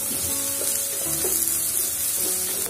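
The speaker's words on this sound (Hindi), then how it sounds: "आप देख सकते हैं मसाला काफी अच्छा भून रहा है" Masala of coarse fennel and dry coriander powder roasting in a pan for a green chilli dish, with a steady close sizzle and occasional stirring scrapes throughout.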